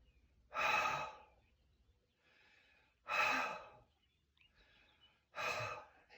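Slow, deep breaths close up during a floor stretching exercise before barre work, with three long audible exhales and softer inhales between them, and no talk.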